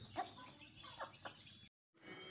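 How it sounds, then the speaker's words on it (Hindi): A hen clucks while out with her chicks in the sunlight, soft irregular clucks close by, a few in a row, a brief gap, then the clucking resumes. "ये मुर्गी को भी देखें जी"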